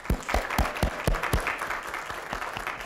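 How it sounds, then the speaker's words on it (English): An audience gives a round of applause to welcome a panel onto the stage at a university alumni event, with distinct strong claps standing out over a dense, steady wash of clapping. "Let's give our panel a round of applause to welcome them."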